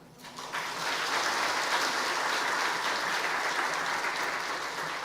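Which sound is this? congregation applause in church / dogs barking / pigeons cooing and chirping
congregation applause in church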